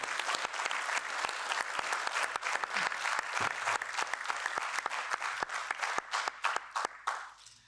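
Audience in a European Parliament room giving a round of applause, a sustained crowd of clapping hands with sharper individual claps standing out near the end before it dies away.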